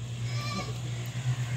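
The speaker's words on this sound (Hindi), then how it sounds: "ये बड़ी हाइट की बकरी है" A tall, pure-bred Hotel Beetal goat gives a brief, faint bleat over a steady low hum, with no talk.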